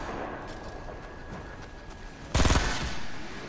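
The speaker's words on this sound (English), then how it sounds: "He was shooting at another dude" Gunfire in Fortnite, a short loud burst of rapid rattling shots after quieter ambient game sound, with distant faint pops before it.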